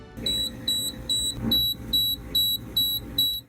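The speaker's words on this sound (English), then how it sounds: "Somehow the propane alarm went off." A propane alarm aboard a catamaran sounds a loud, high-pitched electronic beep, repeating in seven even pulses of about half a second each, with a low hum running underneath.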